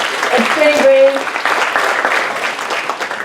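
A school audience at Loara applauds, a dense patter of clapping that fades gradually, with voices talking over it.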